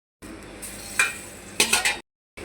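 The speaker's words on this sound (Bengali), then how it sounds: "ভালোভাবে তরকারিগুলো কিন্তু কষাবো" Fish and vegetables stirred and fried together in a pan for a curry, soft sizzling broken by a sharp utensil knock and a quick run of scraping clinks, then a short silence before the frying resumes.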